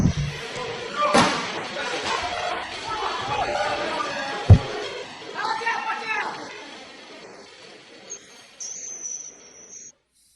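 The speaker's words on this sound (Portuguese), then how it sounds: "então eles começaram a tentar acertar a garrafa com uma bola" A ball strikes a plastic bottle holding dry ice, giving two sharp, hollow knocks about three seconds apart over a busy background of crowd noise and chatter.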